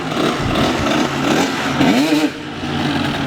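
A dirt bike engine revs close by, a loud rough mid-pitched drone that rises and falls briefly, with no talking over it.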